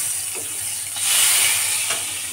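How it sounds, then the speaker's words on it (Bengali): Pointed gourd (potol) frying in hot oil gives a steady, close sizzling hiss that swells briefly in the middle, with faint clinks from the pan. "একটা পটল ভাজা করছি আমি"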